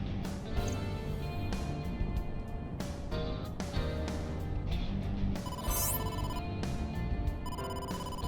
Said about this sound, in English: incoming call from the boss